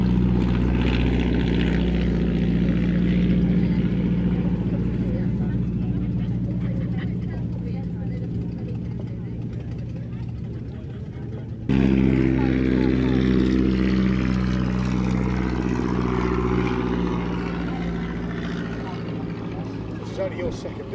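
An SE5 WWI biplane with a 150 horsepower Hispano-Suiza engine flies over an air show, its steady engine drone continuous and fairly loud throughout, shifting in tone partway through, with people talking nearby.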